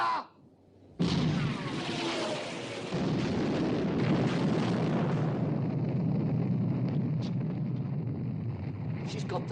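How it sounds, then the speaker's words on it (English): Battleship main guns fire in a 1960 naval war film about sinking the Bismarck, one heavy boom that opens into a long rumbling roar with lingering noise, while a voice can be heard over it. "Open fire, main armament."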